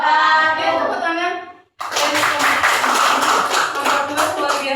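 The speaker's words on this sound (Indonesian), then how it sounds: "Tepuk tangan." Classroom students clap together in a lively, dense burst of hand claps after a voice finishes a group recitation, the clapping continuing steadily and loudly to the end.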